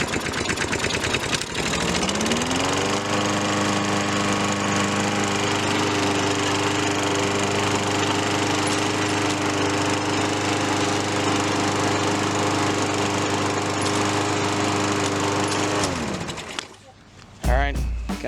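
Tuned-up walk-behind lawn mower, fresh from a carburetor and air filter cleaning, revs up and runs at a steady, loud drone for about fifteen seconds before cutting off, with faint voices at the start.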